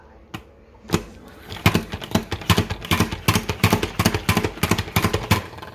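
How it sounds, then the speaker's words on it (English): A large OXO salad spinner whirs with washed salad greens inside, a close, loud run of rapid rhythmic clicking and rattling pulses building over several seconds. "then I'll put it in here and I will spin it"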